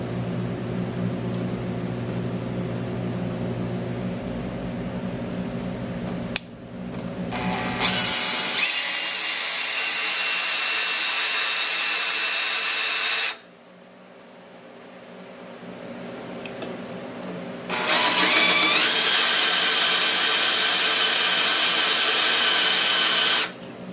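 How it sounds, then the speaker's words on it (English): A power drill whines loudly up close in two long bursts separated by a pause, the motor revving steadily as it bores an oiled hole for a Kreg resaw jig install. "now I'm going to drill the second hole."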